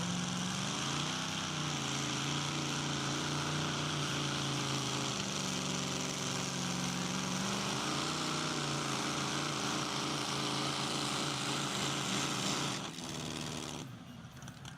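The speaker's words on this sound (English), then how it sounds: "Bit of a backfire at the end." A pulling tractor's engine drones and revs at a club tractor pull. A sharp backfire pop cuts through the steady roar near the end, and the sound is fairly faint overall.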